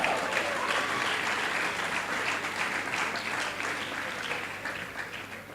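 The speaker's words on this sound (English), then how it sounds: "A round of applause, ladies and gentlemen, for Mr. Segun Awolowo" At a business forum, the audience applauds the CEO of the Nigerian Export Promotion Council with a sustained, fairly quiet clatter of many hands that gradually fades over the last seconds.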